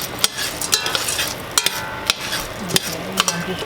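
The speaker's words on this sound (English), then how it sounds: "I'm just stirring it until it's brown" Buttery couscous stirred in a pan with a spoon, a soft sizzle beneath repeated scraping and clinking strokes at an uneven rhythm, close and moderately loud, no talking.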